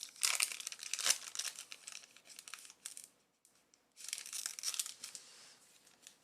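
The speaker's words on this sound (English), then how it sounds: "These bonus packs make me so nervous opening them because they're so thin with only a single card in there." A thin Panini Prizm Draft Picks bonus pack holding a single card is torn open, its foil wrapper crinkling and ripping in close, bright bursts, with a brief quiet pause before more crinkling.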